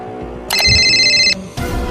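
A phone rings for an incoming call with a bright electronic tone that sounds loud and close for under a second. It cuts off, then a second burst starts, over low room noise.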